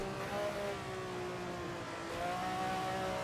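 Race car engine in the Assetto Corsa racing game, played in VR, holds a steady droning tone that dips slightly then climbs in pitch toward the end, with no voices over it.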